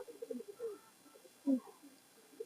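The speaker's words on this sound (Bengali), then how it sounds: "খুব সুন্দর একটা সাপচিলা বা নাপতা মাদি কবুতর" A female pigeon coos softly in low, throaty bursts, with a slightly louder coo in the middle, fairly quiet and close by.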